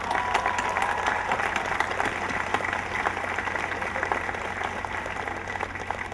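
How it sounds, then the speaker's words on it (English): A large crowd at a university commencement ceremony claps in a sustained, fairly distant wash of applause with faint cheering mixed in, steady across the whole stretch. "I think that definitely deserves a round of applause"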